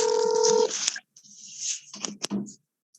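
A telephone sounds close to a participant's microphone during an online class: a steady electronic tone for under a second, then scattered clicks and brief muffled voice fragments with silent gaps.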